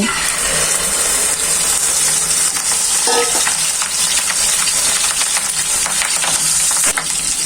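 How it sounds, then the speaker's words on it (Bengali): Fish roe frying in hot oil in a wok gives a steady, loud, close sizzle with crackling spatter throughout, and no one speaks. "তেল গরম হয়েছে, এখন আমি মাছের ডিমগুলো ছেড়ে দিব।"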